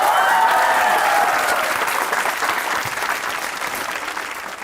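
Audience applause on the comedy show Hasna Mana Hai, a dense wash of clapping that starts loud and full, then slowly thins and fades across nearly five seconds with no voices over it.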